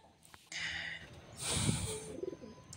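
Pigeons coo softly inside a pigeon house shared with squirrels, quiet murmuring calls over a faint, steady background hiss.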